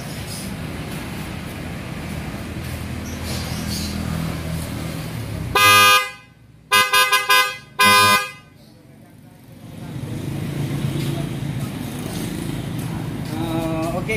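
A newly installed replacement horn on a 2021-or-later Mitsubishi Pajero Dakar sounds in a loud test: one blast, then two short honks and a final blast, all over a steady low background rumble.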